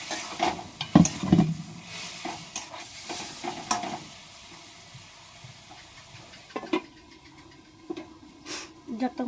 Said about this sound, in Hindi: आलू को भी फ्राई कर लेती हूँ।